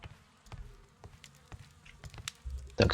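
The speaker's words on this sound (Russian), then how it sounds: "Пчелы по всему дому летают" Bees flying around a house in Sherlock Holmes Crimes and Punishments, soft intermittent buzzing and fluttering near the listener, quiet and uneven, ending in a louder burst of noise.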